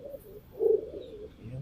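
Pigeons coo softly in a loft, a few low rolling coos rising and falling, with one slightly louder call in the middle, fairly close and otherwise quiet.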